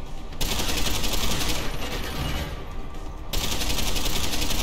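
Rapid, loud automatic gunfire in Deus Ex: Human Revolution rattles in dense, continuous bursts with a brief pause midway, close and harsh, with no voices over it.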